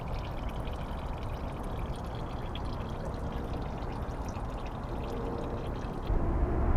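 Coolant draining out of an Infiniti G35 radiator as a steady, continuous splashing pour that holds at an even level throughout, up close, with no talking.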